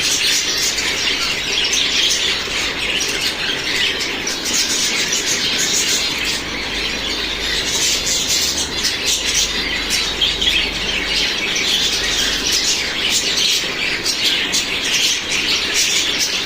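Pet finches bathing in water chirp and squeak continuously, a dense, busy chatter of small birds heard close and fairly loud without pause.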